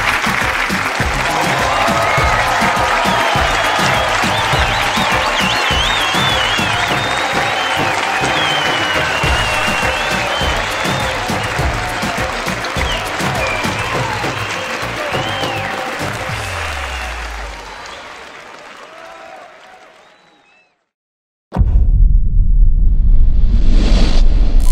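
Game show studio audience claps and cheers loudly for a long stretch to welcome a guest on a Pakistani kids' live TV show, then fades out and cuts to a different loud sound.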